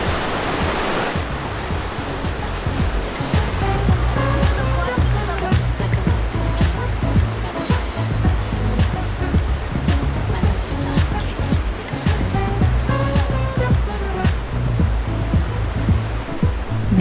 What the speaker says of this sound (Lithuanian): upės srovės garsas gerai prablaško mintis